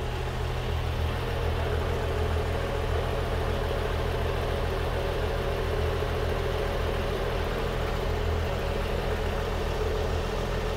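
A steady, low engine idles continuously with an even rumble, no voices and no change in pitch throughout; an early Ford Falcon running from a cold start.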